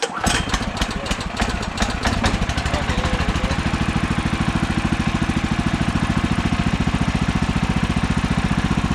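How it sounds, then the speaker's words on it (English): A Woodland Mills sawmill's small engine fires up with a few rough bursts, then settles into a loud, close, evenly pulsing idle that stays steady throughout. "So let's start it up and let it idle a bit and see if we get a reading."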